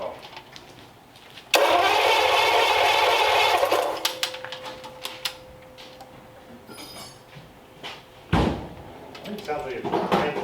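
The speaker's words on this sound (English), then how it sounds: "It sounds like it's cranking a mile an hour." An old engine being started, a loud burst of rapid cranking for a couple of seconds that fades into a lingering whine, followed later by a sharp knock and quieter clatter.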